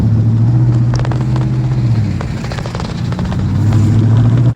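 A 2018 Morgan Plus 8 limited-edition roadster with a 4.8-litre engine and automatic gearbox driving past close by, a loud deep engine drone that shifts pitch midway, then cuts off abruptly at the end.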